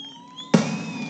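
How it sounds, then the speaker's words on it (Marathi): A sudden loud bang of firecrackers bursts out partway through at a political rally, leaving a noisy crackling tail, after a quieter stretch with a steady high-pitched whine. "फटाके थांबवा ना आता."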